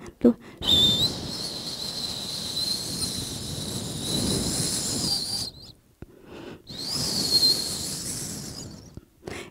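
A voice imitates a whistle: a thin, high, sustained tone in two long stretches separated by a brief pause.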